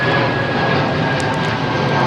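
Aircraft engines at London Heathrow Airport under a low cloud base, a steady, fairly loud broadband roar with a faint high tone running through it, heard alone for a couple of seconds.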